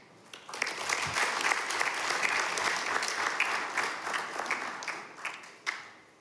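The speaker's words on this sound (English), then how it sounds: "Let us all start by giving you a round of applause." Many hands applaud newly elected members of parliament at an orientation session, swelling quickly into a dense, sustained clapping that thins and tapers off near the end.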